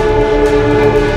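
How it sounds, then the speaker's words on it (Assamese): A special passenger train departing New Delhi for Dibrugarh sounds a loud, sustained horn over the steady rumble of the moving carriages, close and continuous. "নতুন দিল্লীৰ পৰা ডিব্ৰুগড় অভিমুখে চলিল বিশেষ ৰেল।"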